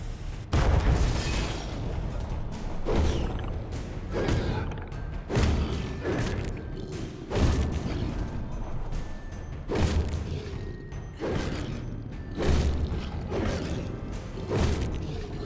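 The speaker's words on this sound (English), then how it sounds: "shoot the cannonball first" Repeated cannonball shots and explosions in Alice: Madness Returns come as a steady series of loud booming bursts about every second and a half, each with a rumbling, creaking tail, over a continuous game background.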